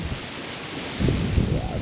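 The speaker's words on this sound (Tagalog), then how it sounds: "O yan, hangin na naman." Wind buffets a microphone in a steady rumbling rush in Masbate, Bicol, growing stronger partway through, with a voice faintly audible underneath.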